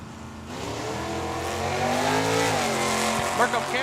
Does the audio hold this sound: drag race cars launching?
yes